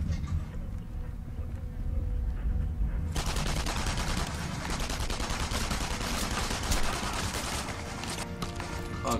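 Rapid bursts of gunfire from the World War II shooter Enemy Front on PS3, loud and dense, starting sparser then erupting into sustained automatic fire that fills the rest of the stretch without any talk.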